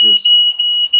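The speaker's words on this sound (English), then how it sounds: "That's the smoke alarm." A piercing high-pitched smoke alarm beeps repeatedly at close range, several short pulses in quick succession, with a brief voice at the start.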